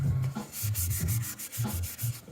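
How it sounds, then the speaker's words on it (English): Sandpaper is rubbed back and forth over a Spiderman helmet mask piece, giving close, rhythmic scratchy strokes about four per second with no talk. "I'm going to sand this off."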